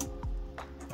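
A command is typed on a computer keyboard to reboot a Xiaomi phone into recovery, with a few close, crisp key clicks spaced unevenly across a quiet moment.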